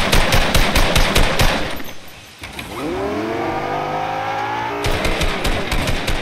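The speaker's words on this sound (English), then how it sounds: "I'm putting shots at range on these fools." Rapid bursts of automatic gunfire from the Fortnite video game, loud and close, a dense string of shots at the start, a pause with a mechanical whir, then another volley at the end.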